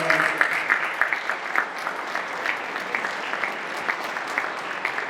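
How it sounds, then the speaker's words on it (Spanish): Audience applause at an education conference on analytical programs, co-design, textbooks and study plans, a steady dense clapping that runs the full length at moderate level, with a few sharper claps standing out. "Fuerte el aplauso."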